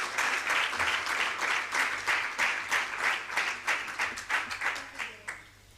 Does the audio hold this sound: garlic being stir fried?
no